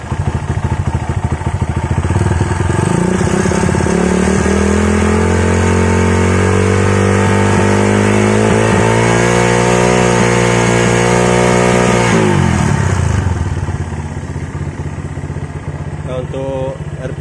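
A Honda GL Max motorcycle engine is revved hard on a throttle test, its pitch climbing and holding high for several seconds before dropping back to a loud, steady idle close by.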